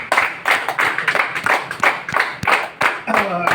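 Audience applause at a community meeting in a hall, a few people clapping in a loose, uneven rhythm of sharp, close claps, with a voice briefly heard near the end.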